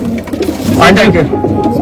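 Malwai pigeon cooing in soft, low repeated coos close by, mixed with people talking over it.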